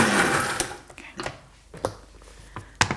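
A blender whizzes a thick, creamy mix of dates, maca powder and almond milk, loud at first and then giving short bursts and clunks as the container is handled.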